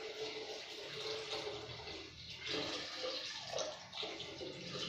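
Water pours steadily into a pan of rice being readied for chicken liver biryani, a close, continuous splashing and gurgling that rises and dips over a few seconds, with no talk.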